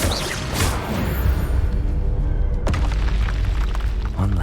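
Confringo fire spell exploding in the Hogwarts Legacy video game, a loud close boom with a whooshing burst that settles into a continuing rumble.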